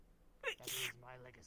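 A single short sneeze bursts out among voices at a tabletop role-playing session, sharp and close, with people talking just before and after it.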